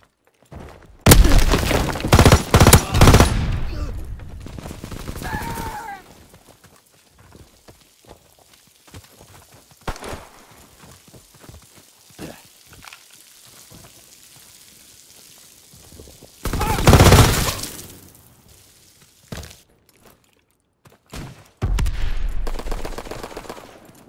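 Bursts of rapid gunfire in a Call of Duty: WWII battle, loud stretches of automatic shooting early and late, with scattered single shots and quieter pauses between.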